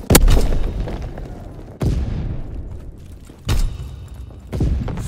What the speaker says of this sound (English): Firing battery one.